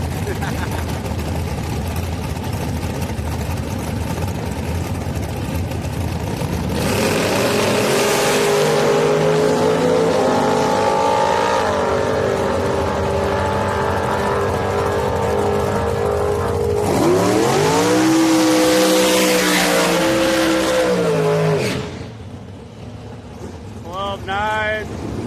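Drag racing cars roar down the strip at a bracket race at Houston Raceway Park, two long loud passes of rising engine pitch from the distance, separated by crowd murmur and a voice talking.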